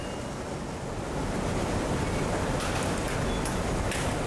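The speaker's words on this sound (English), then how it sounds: "This machine works for complete removal of water from the tea to make it dry." Tea drying machine running inside a tea factory in Assam, a dense steady broadband whir and rush that holds evenly throughout, with no speech.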